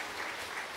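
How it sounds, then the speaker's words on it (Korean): A brief burst of steady clapping as a church congregation applauds in welcome during a Sunday worship service, dense and even with no voices. "박수로 환영합니다"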